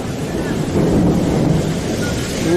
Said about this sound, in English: I don't think I've ever heard thunder that close.